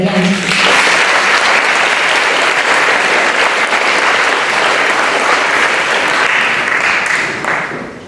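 Sustained, loud applause fills a hall as pupils are congratulated, a thick even roar of clapping that briefly overlaps a voice at the start and tapers off in the final second.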